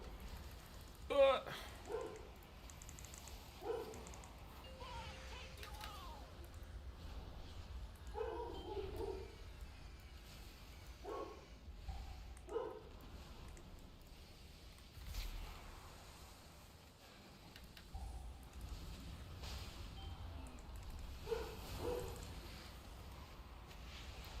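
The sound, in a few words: dog barking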